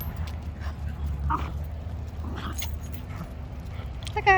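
Dogs at a dog park yip and bark in short, scattered bursts over a steady low outdoor rumble, with a jangling metallic rattle near the end.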